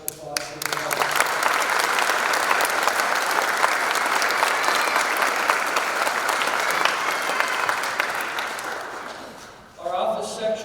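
An audience at a law enforcement academy detention officer graduation breaks into sustained applause that holds loud and steady for several seconds, then thins out and fades, with voices returning at the very end.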